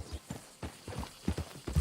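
Horse hooves clip-clopping at a steady walking rhythm in the Red Dead Redemption 2 video game, a series of soft close thuds over faint background sound.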